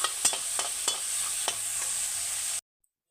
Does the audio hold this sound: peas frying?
yes